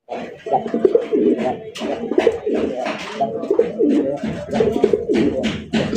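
Pigeons at a breeding farm coo continuously in close, rhythmic, throaty bursts that overlap into a busy chorus, fairly loud throughout.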